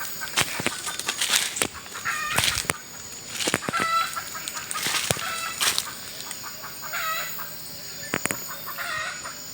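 Hens cluck and chicks peep busily nearby, with scattered calls, a crow or two and occasional flapping wings over a noisy yard.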